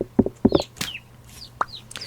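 Chickens and roosters in the Vintage Story video game cluck in a few short bursts early on, followed by brief chirpy bird calls and a sharp knock, with no talking over them.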